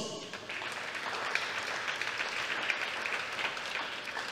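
Spectators at a national swimming championship applaud in a sustained wash of many hands clapping, fairly faint and distant in a large, reverberant hall.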